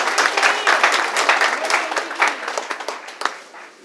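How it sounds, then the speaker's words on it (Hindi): An audience at an event in the Ambassy Hotel claps loudly for a few seconds, with dense overlapping hand claps that thin out toward the end. "जोरदार ताली हो जाए इनके लिए भी"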